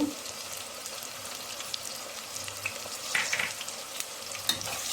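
Ground spices such as salt, cinnamon, clove, coriander and turmeric stir-fried in a pan for Andhra gongura curry, giving a steady soft sizzle with faint scraping of the stirring, fairly quiet and continuous.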